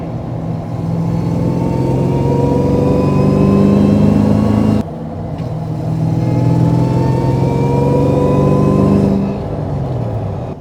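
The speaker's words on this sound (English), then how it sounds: "what's going to sell this car is the pure induction noise" A supercharged Chevy LSA V8 in a Land Rover Defender 110 roars and climbs through revs with a whining induction note, briefly dropping off before pulling hard again.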